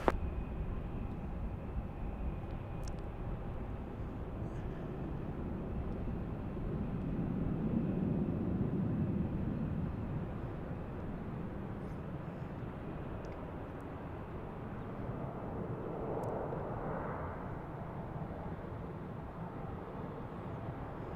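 A SkyWest airliner takes off from runway 34 left at Salt Lake City, its engines giving a steady, distant roar that slowly swells and shifts over about twenty seconds under faint background noise.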